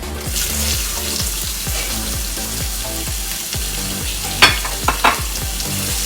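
Onion hitting a hot pan while cooking ginataang langka (jackfruit in coconut milk) gives a steady, close sizzle with a few sharp clatters near the end, under soft background music.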